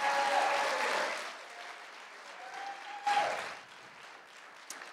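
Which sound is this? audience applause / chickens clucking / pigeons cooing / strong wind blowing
audience applause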